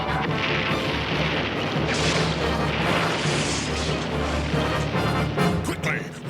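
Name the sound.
torpedo being fired, explosion in cartoon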